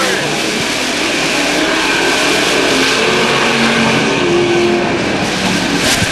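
Race cars roar steadily through a turn on an oval track, a dense, continuous engine drone with no break over the whole stretch.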